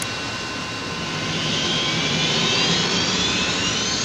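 A jet airplane takes off in the 1973 film Magnum Force, its engines building from a steady roar to a louder, rising whine over a few seconds, with no talk over it.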